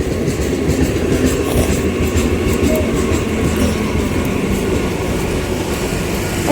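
A local train bound for Diamond Harbour pulls into a station, a loud, steady rolling rumble of wheels and carriages with a faint rhythmic clatter throughout, no speech.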